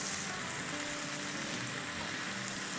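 Pepper steak for Eid sizzles and fries steadily in a pan with thickening sauce, a constant close hiss with no talking.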